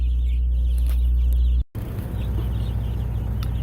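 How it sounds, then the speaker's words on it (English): Many chickens cluck and chatter together in a dense, continuous flock chorus over a loud low hum, briefly cut off midway. "And over here, we just simply have a buttload of Cornish crosses"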